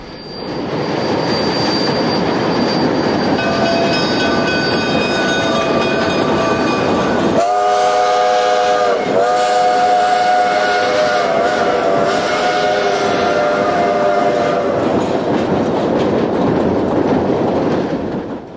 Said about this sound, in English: Hitting downgrade, our train crosses Lobato Trestle.